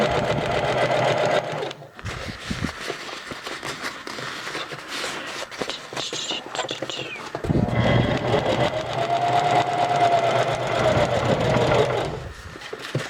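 A sewing machine top stitches a pocket cloth diaper near its snaps, humming in several close bursts with brief pauses and fabric-handling rustles between runs.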